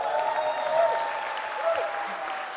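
Warm applause from a birthday party audience greeting a guest onstage, a steady wash of many hands clapping at moderate level, with faint voices mixed in.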